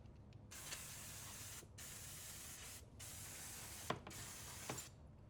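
Paslode degreaser is sprayed onto an Impulse CoilMaster IM50S nailer in steady hissing bursts with brief pauses between them, close and fairly quiet.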